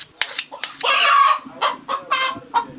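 Chickens cluck close by in a series of short bursts, one drawn-out squawk in the middle, with sharp clicks between calls.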